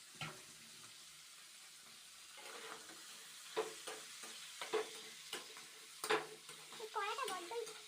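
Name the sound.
stirring fish curry with potatoes frying in a pan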